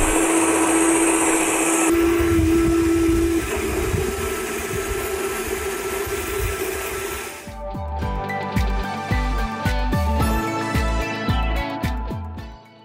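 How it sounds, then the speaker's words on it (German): An Einhell GE-HM 18/38 cordless cylinder lawn mower cuts grass with a steady motor whir for about seven seconds, then shifts into a rattling series of rhythmic clicks and clatters from the spinning reel, close and fairly loud. "Er schneidet schon mal relativ wenig weg"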